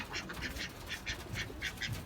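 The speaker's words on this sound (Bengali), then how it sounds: "এই যে হাঁস ছেড়ে দিছি" Ducks let out in the morning quack repeatedly in a lively, overlapping chorus, fairly close, with a few louder honking calls standing out.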